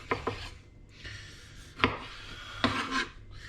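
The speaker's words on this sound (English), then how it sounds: "I'm just going to chop these the root sections of these onions lightly." A knife chops onion root sections on a cutting board in a kitchen, a few sharp, scattered taps and rasping cuts at close range, fairly quiet, with no talking.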